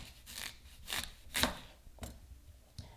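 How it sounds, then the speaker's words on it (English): A sharp kitchen knife chops through sweet potatoes in a series of crisp, close cuts, about five or six separate strokes spaced irregularly, at moderate loudness with no talking. "I hate cutting sweet potatoes"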